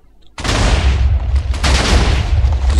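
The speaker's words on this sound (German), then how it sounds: "zweiter Schuss geht raus mit 2 Ticks" Gunfire in the WarGear video game erupts suddenly after a brief quiet and continues as loud, dense, rumbling shots and booms.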